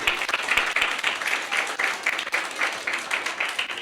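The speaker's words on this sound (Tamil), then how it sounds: "இன்னொன்னு கைத்தட்டல் கொடுக்கலாமா?" An audience at a Christian Tamil debate gives a sustained round of applause, a dense, even crackle of many hands clapping in a hall, steady for several seconds with no speech over it.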